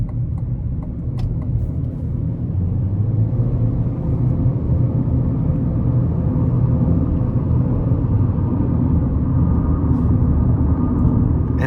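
A 2025 Chevrolet Equinox LT under full-throttle acceleration, heard from inside the cabin as a steady loud engine drone and road rumble that holds for over ten seconds, with no one speaking.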